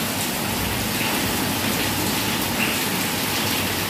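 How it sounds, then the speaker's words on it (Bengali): A downpour of heavy rain drumming continuously on surfaces nearby, a thick, even roar of drops with no pauses and no speech. "প্রচুর বৃষ্টি হচ্ছে।"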